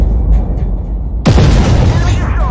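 A single loud gunshot blast fires in a video game, a sharp broadband burst about halfway through followed by a decaying rumble, set against steady background noise.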